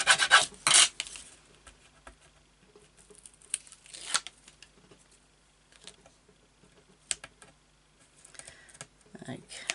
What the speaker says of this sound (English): Give that a burnish down.